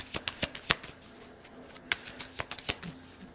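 Tarot cards being shuffled by hand, a quiet close series of crisp papery riffles and taps in irregular bursts, with no talk.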